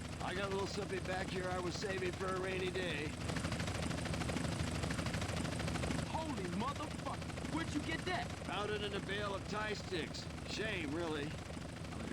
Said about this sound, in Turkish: Tepemizde bir helikopter var ondan asla kaçamayız.